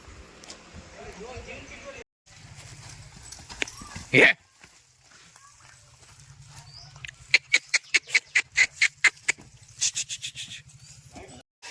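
Horse hooves clip-clop on a hard surface in a quick, even rhythm, preceded by a sharp bang and distant voices, with a dog whimpering faintly.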